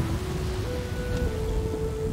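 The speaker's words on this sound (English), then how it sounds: "nice little thunderstorm going on" Steady rain and stormy rumble from a thunderstorm in the video game Flower, a continuous broadband wash with faint tonal game music lines running through it.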